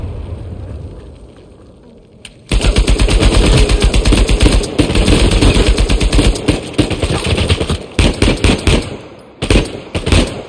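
Rapid automatic gunfire from the Uncharted 4 video game erupts after a quiet start, loud and sustained bursts with brief gaps, close and dense.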